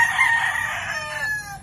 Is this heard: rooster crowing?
yes